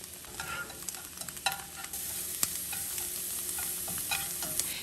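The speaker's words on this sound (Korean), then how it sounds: "약간의 기름을 넣어 주시고요. 마늘을 향이 나도록 볶아 주세요." Garlic stir-fries in a little oil with a soft continuous sizzle and scattered light scraping taps from the utensil, close but fairly quiet.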